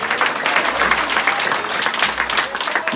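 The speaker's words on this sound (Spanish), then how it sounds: "Denle ofrenda de palmas al Señor." Church congregation giving a sustained round of applause as an offering of praise, dense overlapping hand claps filling the room, loud and continuous.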